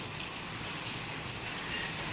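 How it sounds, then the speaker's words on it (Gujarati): Hailstones and rain pelt down steadily during a storm with strong wind, a dense, even hiss of impacts close by with no voices. "કેટલા કરા પડે એના"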